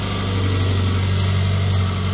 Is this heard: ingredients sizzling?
no